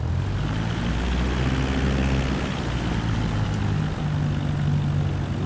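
A Cessna's propeller engine idling and droning while taxiing in Microsoft Flight Simulator 2024, a steady low hum with a constant buzz, unbroken and alone.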